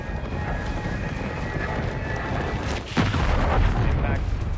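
Artillery fire mission striking in the video game Modern Warfare 3, a sudden heavy boom cutting through ongoing game noise and radio voices, followed by a sustained louder rumble.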